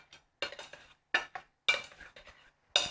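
Blueberries tossed with sprinkled cornstarch in a bowl for a Finnish blueberry quark pie, a few close bursts of scraping and clinking as a spoon stirs the fruit, with short pauses between strokes and no talking.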